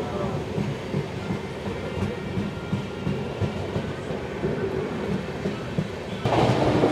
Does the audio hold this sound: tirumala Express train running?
yes